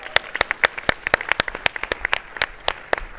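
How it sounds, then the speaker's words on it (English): Applause from an audience at a startup pitch competition, a round of sharp, uneven handclaps from a fairly small crowd, moderately loud and close, with no talking over it. "let's have one more round of applause"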